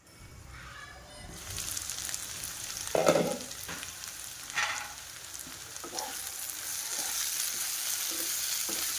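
Mixed vegetable sabji with potatoes steams in a covered pan over low heat, heard as a steady hiss of sizzling and bubbling that swells after a quiet start, with a few knocks and faint background voices.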